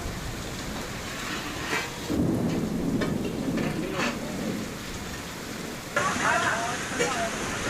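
Heavy downpour with thunder and strong wind in Gujarat, a loud steady rush of rain with a surge of low rumbling in the middle and a sharper gust of noise near the end; no clear talk.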